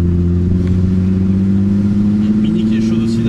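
A Mini's engine hums and revs through a super-sport exhaust silencer, a strong, steady low drone with slight rising pitch, heard close and loud from start to finish.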